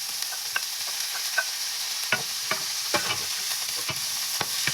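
Ampalaya and onion are stirred and sautéed in a pan, a soft steady sizzle broken by repeated light scraping and clinking strokes from the spatula.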